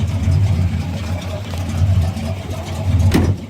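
1968 Cadillac hearse engine idling while warming up, a steady low rumble with slight pulsing, close and continuous, with a brief sharp click near the end.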